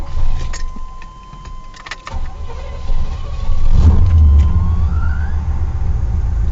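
A car is started with a key: keys jangle, a chime and clicks sound, then the engine cranks and catches, settling into a loud, close idle hum.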